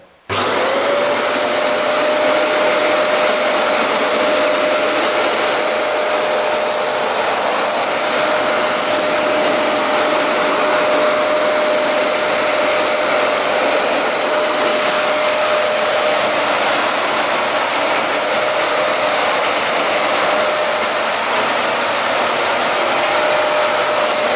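A vacuum cleaner switches on and runs steadily on a floor, a loud, close, continuous roaring whine with a high pitched tone that holds unchanged for over twenty seconds.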